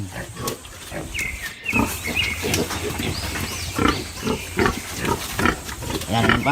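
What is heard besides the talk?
piglets eating madre de agua snacks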